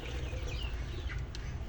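Chickens cluck softly at a poultry farm, several short calls scattered over a steady low background hum, fairly faint and distant with no talking.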